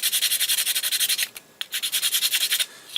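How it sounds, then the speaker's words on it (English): A flat file rasps back and forth over the mating surfaces of a 3D-printed part, a close, steady run of rhythmic scraping strokes with one short pause partway through. "So I just take a flat file"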